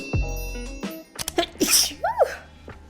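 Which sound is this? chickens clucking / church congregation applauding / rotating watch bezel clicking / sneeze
sneeze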